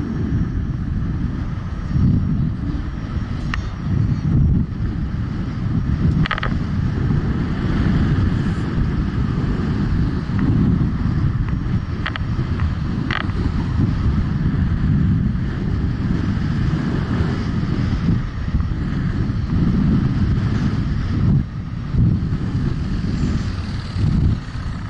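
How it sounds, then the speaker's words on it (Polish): Strong wind buffets the microphone of a rider on an electric scooter for the whole stretch, a heavy, low roaring rumble with gusty surges and occasional faint clicks. "tylko wiatr ten bardzo głośny, bardzo mocny dzisiaj"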